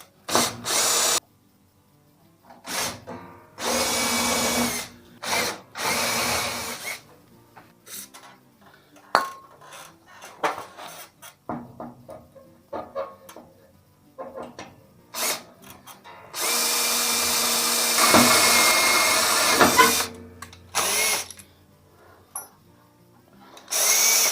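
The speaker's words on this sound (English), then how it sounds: "So now I'm going to go with my drill here and I'm just going to start here" A power drill whines in repeated bursts drilling metal, starting and stopping, with metallic clinks and tool handling between runs and one long continuous drilling stretch.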